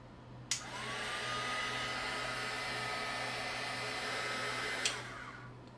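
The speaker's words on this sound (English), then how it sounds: "The load I'll be using is this 300 watt heat gun." A 300 watt heat gun runs steadily as a load on a portable LiFePO4 solar power station, a loud continuous fan-and-heater whoosh with a faint electrical hum beneath, clicking on near the start and off near the end.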